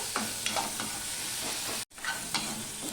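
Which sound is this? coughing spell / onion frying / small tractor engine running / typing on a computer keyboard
onion frying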